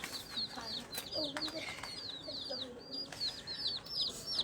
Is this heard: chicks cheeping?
yes